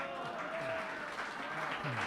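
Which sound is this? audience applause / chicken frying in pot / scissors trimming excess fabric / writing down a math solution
audience applause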